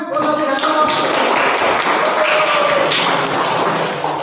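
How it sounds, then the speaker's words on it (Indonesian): Classroom applause from a group of high school students, a dense burst of many hands clapping together that holds steady for several seconds with no voices over it. "tepuk tangan"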